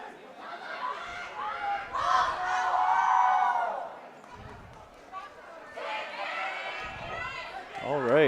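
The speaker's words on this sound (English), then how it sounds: "The Australian fans suggesting a cheer for the refs." A crowd in an arena at a women's world dodgeball championship match between Australia and Canada raises a cheer for the referees in swelling waves, with a commentator speaking over it.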